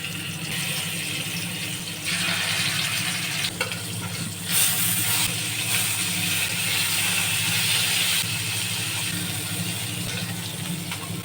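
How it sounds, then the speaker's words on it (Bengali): Fish frying in hot oil gives a steady, loud sizzle that continues throughout, with occasional clinks and scrapes of a utensil stirring the pan. "মাছটা ভেজে নিচ্ছি।"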